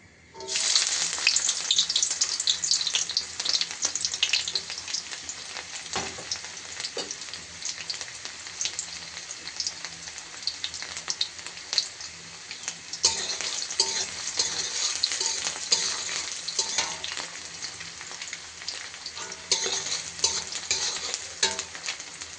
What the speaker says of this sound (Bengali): পেঁয়াজটার সাথে মরিচটা এভাবে ভেজে ফেলি